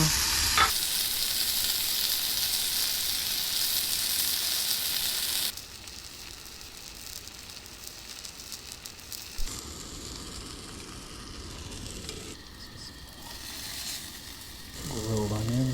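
Onions sizzle on a grill at a campsite, a steady bright frying hiss that is loudest at first and then settles into a softer crackle with occasional stirring, close by and with no speech over it.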